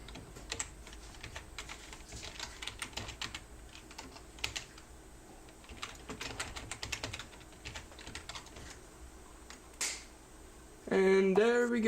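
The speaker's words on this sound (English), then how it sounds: "I'll go ahead and type in my password." Fingers typing a password on a computer keyboard, a close run of quick irregular key clicks in bursts over a faint background hum, followed by a brief computer chime at the end.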